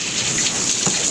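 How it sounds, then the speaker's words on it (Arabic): Garden hose spraying water onto a window, balcony and wooden surfaces, a steady broad hiss of spray that holds evenly for about a second with no voices. "جبت الخرطوم كده وعلقته في الحنفية، وقعدت بقى ايه يعني ارش مية"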